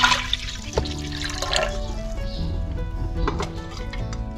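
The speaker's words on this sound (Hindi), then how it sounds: "ये पानी शामिल करेंगे" Water is poured into a cooking pot to start a chicken feet yakhni, a steady splashing pour with a few clanks and knocks against the pot, fairly close.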